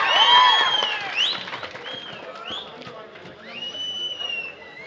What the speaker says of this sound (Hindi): एक जोरदार ताली बजा दीजिए